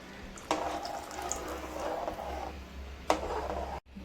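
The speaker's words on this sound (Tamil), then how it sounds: "கரைச்சி வச்சுருக்க மாவு ஊற்றிடுவோம்." Dissolved flour batter being poured into a pot of cooking kolukattai, a soft continuous liquid pour with two sharper splashes near the start and later.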